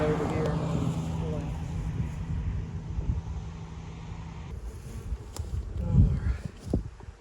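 Honey bees buzzing around an opened hive in a chemical-free apiary, a steady close hum mixed with wind noise and a person talking over it.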